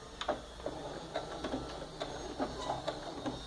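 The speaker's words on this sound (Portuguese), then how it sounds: "Vamos descer a agulha, vamos dar o retrocesso" A sewing machine backstitching through a pouch lining gives faint, quick ticking clicks in a steady rhythm against quiet room background.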